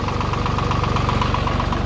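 Tractor engine running close by while ploughing a field, a loud steady chugging with a fast even knock throughout and no speech.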